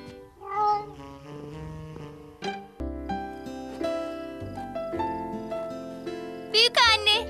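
Childlike voices imitate kitten meows, high and playful, a few drawn-out calls over bright background music in a cartoon.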